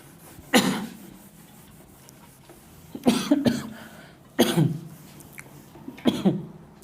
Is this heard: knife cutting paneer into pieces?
no